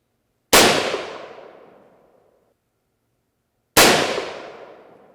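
Two loud, sharp rifle shots from a .32-40 Winchester falling block rifle, spaced about three seconds apart, each cracking out and ringing into a long fading tail outdoors, with no talking.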